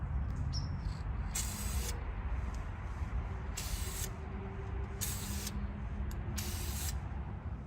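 Aerosol spray paint going onto Mazda 3 brake calipers in four short hissing bursts, close up, with quiet gaps between them.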